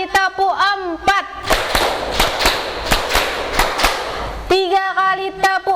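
A standing group claps two quick sets of four hand claps, crisp and loud in a steady rhythm, framed by a sung voice calling the pattern before and after.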